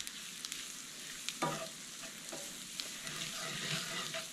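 Sausage gravy being stirred as it cooks in a pan, a soft steady sizzle with occasional scraping strokes of a utensil against the pan, fairly quiet and close, with no voices.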